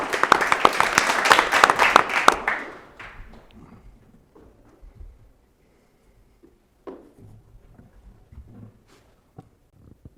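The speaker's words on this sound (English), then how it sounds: "So let's give a big round of applause, and Sandip, we'll get you on stage." An audience at a finance conference panel claps briefly and loudly for about two and a half seconds, then the applause dies away into a quiet room with a few faint thumps.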